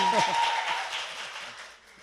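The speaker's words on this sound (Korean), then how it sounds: "다시 한번 감탄하면서 일단 영문을 모른 채 박수" A studio audience on a Korean talk show claps briefly, the applause fading quickly while a voice speaks over it.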